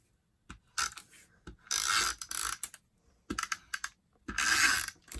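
A snail adhesive tape runner is pressed and dragged across a 4 by 5 1/4 inch card panel, giving short clicking, ratcheting bursts with brief pauses between strokes, close and fairly quiet.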